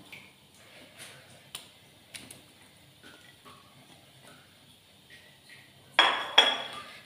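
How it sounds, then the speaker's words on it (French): Potatoes, chicken and tomatoes are mixed in a pot, starting as sparse, soft clinks and taps of a utensil against the pot, then ending in a louder burst of scraping and stirring. "Et je vais mélanger tout ça."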